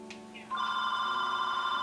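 A telephone rings with a steady electronic tone after a brief higher chirp, sounding close and loud and continuing unbroken to the end, with no talk over it.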